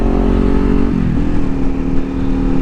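A 650cc motorcycle engine growls up close, holding a steady note before a brief dip and change in pitch as it rides past, loud and alone without speech.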